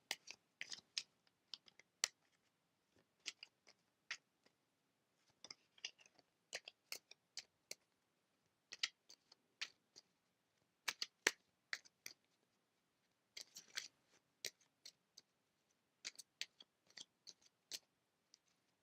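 A deck of tarot cards is shuffled by hand in a quiet room, with soft irregular clusters of crisp card flicks and riffles, close to the microphone and with no talking.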